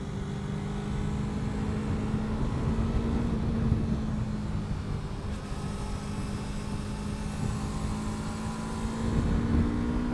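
A Yamaha R3 motorcycle climbs a hill, its engine droning steadily and close throughout, with a slight swell in revs near the end and no talk.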